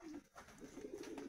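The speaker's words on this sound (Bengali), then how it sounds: "ব্রিডিংয়ের পায়রা, ম্যাড্রাস আছে, আর কিছু গিরিবাজ আছে" Breeding pigeons of Madras and Giribaz breeds cooing softly inside a cage, a faint, close, throaty rolling coo lasting about a second.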